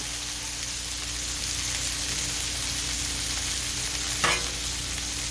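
Onions and mushrooms sizzle on a flat griddle as a burger garnish, a steady low hiss of frying with a faint hum behind it and one brief scrape near the end.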